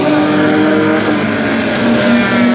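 Race cars at Talladega Short Track during a Hot Shot feature roar past in a loud, sustained engine drone with rising and falling revs, close by and without talk.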